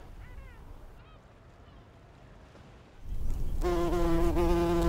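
A faint, quiet stretch gives way to a loud, close bee buzz with a rich droning tone that holds steady to the end, on Skokholm Island.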